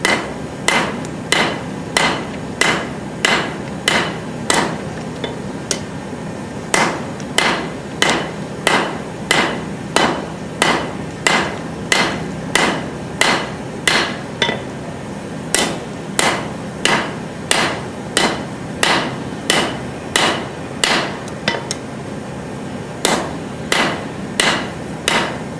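Hammer forging a hot railroad spike on an anvil to draw it out for a knife, with steady rhythmic ringing blows in quick groups and brief pauses between them, close and loud.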